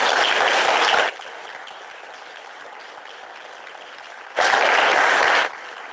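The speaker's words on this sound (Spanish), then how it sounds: "Un fuerte aplauso, por favor." Applause from an audience at an academic research symposium: a loud burst of steady clapping, a long stretch of quieter room sound, then a second burst of clapping that stops abruptly.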